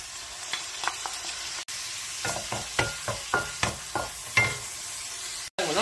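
Scallion oil sizzling in a pan while being stirred, with a steady close fry hiss and repeated sharp scraping clatters of a utensil against the pan.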